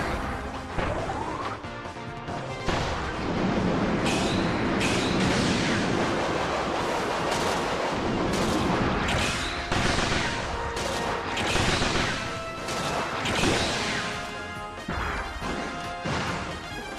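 Rapid-fire shots in Kirby's Return to Dream Land Deluxe come as a dense, continuous barrage of loud crashing blasts layered over busy game music and effects throughout.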